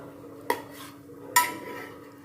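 Fried bread for bread masala set onto a plate, two sharp clinks of crockery about a second apart, each with a brief ringing tail over a quiet kitchen hum.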